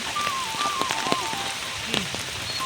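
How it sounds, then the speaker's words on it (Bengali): Heavy rain pours steadily on a rural pond during a fishing outing, a dense, even hiss of drops striking water and surfaces, with a few louder nearby splats and no talk. "প্রচুর বৃষ্টি হচ্ছে।"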